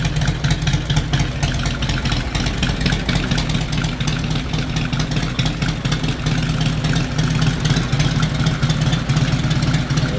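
A 2018 Harley-Davidson Heritage Softail with a 114-inch Milwaukee-Eight engine, Stage 2 tune and Bassani True Duals exhaust idles close by with a loud, steady, deep lumpy rumble, with no talking.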